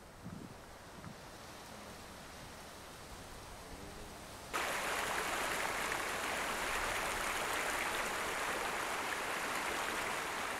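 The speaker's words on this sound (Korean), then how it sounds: "검은 폭포라는 이름을 가진 스바르티포스" Svartifoss waterfall in Iceland, framed by black basalt columns, gives a steady roaring rush of falling water that grows suddenly louder and brighter midway, continuous and broadband with no voices.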